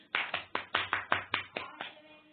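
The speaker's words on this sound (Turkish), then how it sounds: "Şöyle alkış." Close, crisp hand claps, about eight in an even rhythm, each sharp and distinct against quiet, tapering off at the end.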